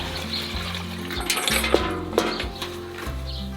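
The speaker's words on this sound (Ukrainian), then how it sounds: "Наливаємо воду." Water is poured in a kitchen while preparing pickled cucumbers with horseradish leaf, a soft splashing stream with a couple of clinks, fairly quiet and close, with no talk over it.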